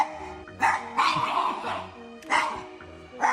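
A pet dog barks in repeated bursts, several loud, close yaps spaced about a second or two apart, in a room with no one talking during the barks.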